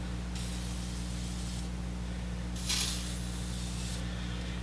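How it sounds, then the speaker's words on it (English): Penetrating oil sprays from an aerosol can onto screw heads on the side panels of a 1930s Wayne 60 gas pump, with steady soft hissing bursts over a low constant hum in the room. "start getting that penetrating oil on all these screw heads that are holding on these side panels"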